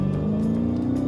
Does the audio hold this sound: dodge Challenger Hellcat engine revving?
yes